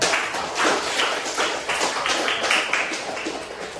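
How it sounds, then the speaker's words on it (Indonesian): A class of students claps their hands together in a steady, fairly rhythmic burst that carries on for several seconds in a classroom. "Oke, tepuk tangan dulu untuk kita."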